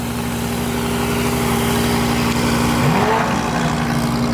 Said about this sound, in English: friggin' R8 is over here revving. Thing sounds so good.